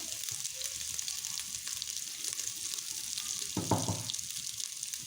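Crushed pepper, cumin and garlic sauté in a pan for jeera rasam. A steady, close sizzle runs throughout, with a brief louder stirring scrape near the end and no voices.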